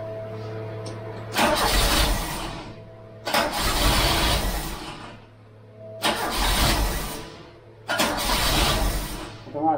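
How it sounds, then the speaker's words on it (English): A Ford Cortina MK3 with a Pinto engine, flooded with petrol, cranks in four separate loud bursts, each catching briefly and then dying back to quiet between attempts. "We just need to get the car to start."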